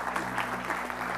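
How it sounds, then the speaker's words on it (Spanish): Church congregation applauding, a brief, dense spatter of clapping at steady moderate level over a constant low electrical hum. "Cada área un aplauso a Danita."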